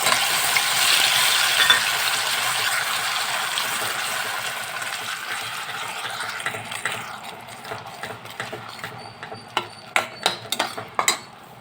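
Ground tomato paste sautés in a pan after garlic, a loud hiss that gradually softens while a spoon scrapes and taps the pan in quick knocks near the end.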